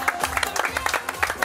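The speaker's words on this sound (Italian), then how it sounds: "un applauso a Marco Ciriaci che sta in giuria con noi stasera" A seated audience claps for a jury member at a Miss Universe Italy pageant evening in Cilento: a brief, dense patter of applause.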